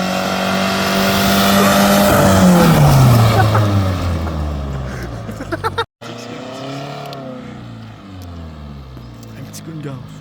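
A car engine revs hard near a roaring mountain torrent, pitch climbing then sweeping down, cutting out briefly, then idling and revving again more softly, with people talking over it.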